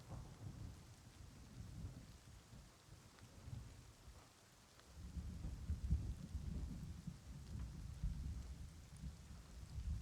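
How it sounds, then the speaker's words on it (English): Rainstorm with rolling thunder in the survival game Rust, low rumbles swelling and fading over steady rain, with a brief lull midway before the thunder returns. "We can wait for the storm to pass."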